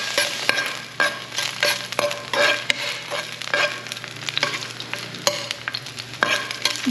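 Garlic and onion sauté in a hot wok, a loud continuous sizzle broken by sharp scrapes and clicks of stirring.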